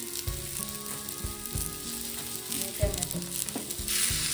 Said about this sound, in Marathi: खडे मसाले, जिरं, आलं लसूण पेस्ट घेतली ती पण टाकून